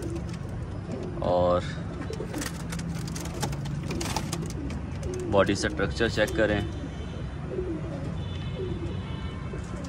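A pair of Amritsari pigeons, an old Indian breed, coo in a few low bursts nearby while someone talks over them.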